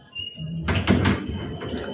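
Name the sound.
door being opened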